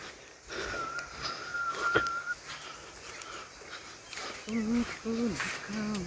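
Someone whistles a short tune while walking uphill. Heavy breathing and a few spoken words come through the wind, and the whistled notes are faint at first and clearer near the end.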